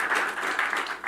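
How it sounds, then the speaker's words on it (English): Applause from a conference audience at a national e-commerce strategy event in Trinidad and Tobago, a dense, steady wash of many hands clapping at moderate level with no talk over it. "I think that deserves a round of applause."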